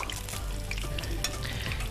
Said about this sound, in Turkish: İşte bu kızartmadır.